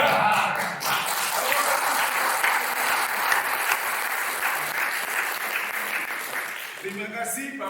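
A church congregation applauds together during a sermon, a dense, sustained wash of clapping that fades slightly toward the end as a voice begins speaking.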